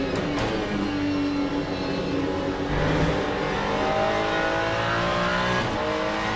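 A Mustang GT race car in Le Mans Ultimate holds a steady, loud engine drone throughout, its pitch rising and falling as it revs through gears.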